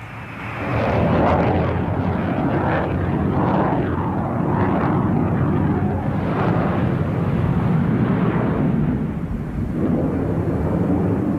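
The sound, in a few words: Tu-134 airliner flying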